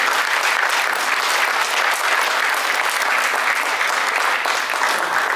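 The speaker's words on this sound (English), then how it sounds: "If you could just give her a round of applause" Loud, sustained applause from a crowd of players and parents at a golf tournament fireside chat with LPGA pro Angel Yin and Annika Sorenstam, thick and uniform clapping from start to finish.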